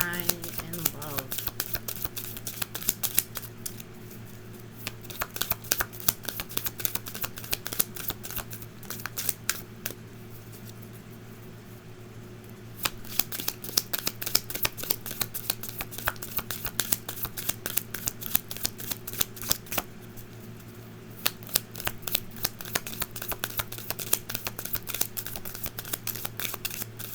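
Tarot cards are shuffled in a steady run of quick, crisp riffling clicks, pausing briefly twice, with a low steady hum beneath throughout.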